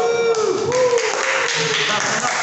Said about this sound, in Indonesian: Beri tepuk tangan yang meriah kelompok.